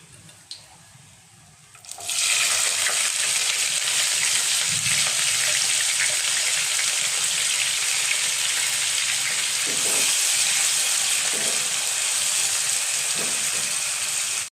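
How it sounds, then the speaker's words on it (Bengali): Chopped onion drops into hot ghee for chicken korma, setting off a loud, steady sizzle that jumps up after a quieter start and holds close and continuous to the end, with no talking. "পেঁয়াজ কুচিটা দিয়ে একটু ভালো করে ভেজে দেব"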